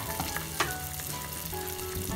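Marinara ingredients with fresh basil stirred with a spoon in a frying pan, a steady sizzle broken by scraping spoon strokes and a sharp clack, close and alone without talk.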